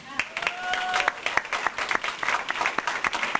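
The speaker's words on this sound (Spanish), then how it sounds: "Denle un aplauso al Señor" A church congregation breaks into dense, sustained applause, many hands clapping close together at an even loudness throughout, with voices mixed in beneath the clapping.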